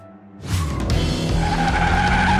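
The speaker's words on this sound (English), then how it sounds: "Listen to the echoes and the sound of the engine." Cartoon sound effect of a car engine revving loudly with skidding tire squeal, starting abruptly after a brief quiet and holding steady and close to the end, with no talking.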